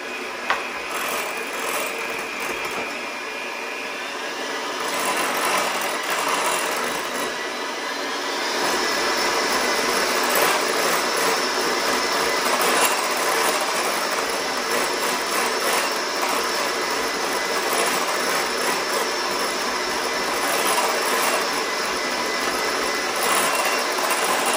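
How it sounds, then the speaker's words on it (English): A whisk scrapes steadily against a bowl as sweetener is worked into peanut butter mousse, a continuous, close rasping and swishing texture that grows slightly louder partway through, with no talking. "And now we're going to whisk in half of our sweetener."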